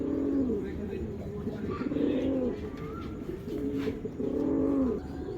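Tournament racing pigeons coo in repeated throaty rolls close by, each call swelling and fading in a regular rhythm with short gaps, over faint background noise.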